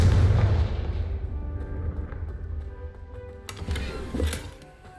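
A Confringo spell explodes in the Hogwarts Legacy video game with a deep, loud boom that rumbles and fades, followed by a smaller crackling blast a few seconds later, with no talking.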